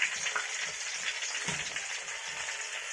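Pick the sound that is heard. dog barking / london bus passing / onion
onion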